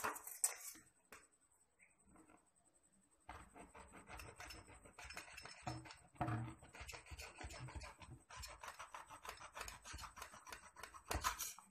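Plastic pipe being cut to length for a homemade hookah, giving a run of close scraping, snipping cuts in irregular bursts after a quiet start, with no talk.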